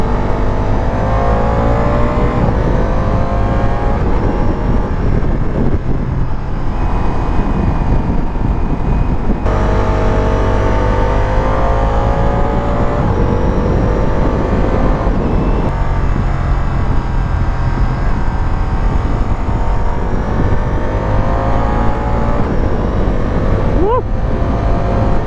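A Ducati motorcycle engine revs hard at full throttle during a test ride, its rising and falling pitch sweeping up and down, loud and continuous, with wind rush and a rider talking over it.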